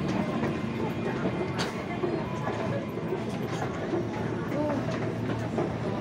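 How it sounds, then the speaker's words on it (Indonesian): A commuter train pulls out of Tanah Abang station, its wheels rumbling and clattering over the rails amid platform noise, with people talking nearby. "Ya udah jalan dia keretanya."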